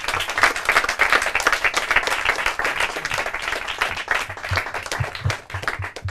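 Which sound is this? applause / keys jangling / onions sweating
applause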